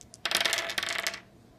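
Four dice tumble and clatter across the board during an Axis and Allies game, a close, dense rattle of hard hits lasting about a second before settling into quiet.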